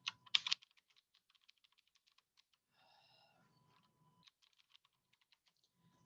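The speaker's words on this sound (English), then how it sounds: "I'm going to type in here health" Close typing on a computer keyboard, with quick irregular clicks in bursts and a louder clatter at the start. A brief tonal beep and low hum sound midway, and a few more keystrokes follow. No one speaks.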